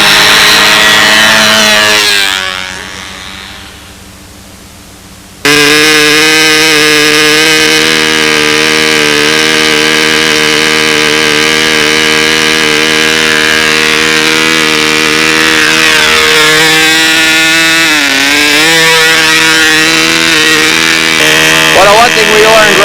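A model airplane engine on a Windy B-25 runs without its muffler at a hot, still flying field, a loud harmonic buzz that dips briefly early on, then roars back steady and rising in pitch near the end.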